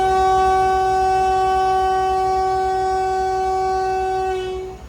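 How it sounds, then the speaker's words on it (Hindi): A Pakistan Express train sounds its departure whistle at a station: one loud, steady, sustained horn blast lasting several seconds, close by and alone, fading slightly at the end. "पाकिस्तान एक्सप्रेस का डिपार्चर विसल हम सुनेंगे"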